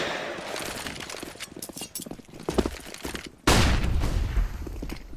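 Rapid gunfire from CS:GO during a competitive match: dense bursts of shots and sprays crackle throughout, ending in a loud sustained burst.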